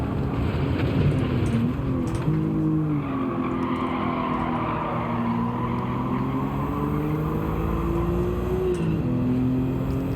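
Racing car engines from Gran Turismo 7, including a Toyota Celica, drone loudly and continuously, pitch rising and falling as gears shift, with tyre noise beneath the steady roar.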